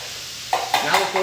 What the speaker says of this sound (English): get these oysters frying